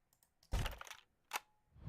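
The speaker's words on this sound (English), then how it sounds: "The first thing I came across was this little clicking sound right here." A small, crisp clicking sound, a few sharp ticks followed by a brighter burst and another single click, close and clean against near silence.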